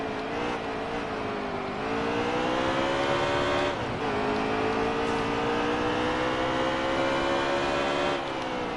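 Race cars in the NASCAR Heat 3 video game roar at full throttle during a multiplayer race with a big wreck, a loud continuous engine drone with gear-shift dips and overlapping cars, no talk.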